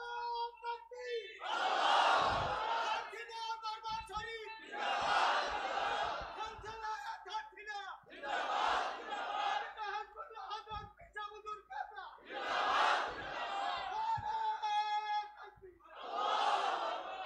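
Crowd at a large religious gathering, an annual Isale Sawab mahfil, chanting in unison in answer to the Naraye Takbir call: about five loud, massed shouted responses at regular intervals, each a rolling swell of many voices.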